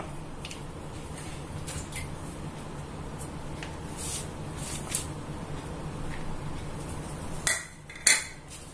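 A utensil mixing grated coconut into flour in a bowl for Kerala sukhiyan, with soft repeated scraping and light clinks close by, ending in two louder knocks.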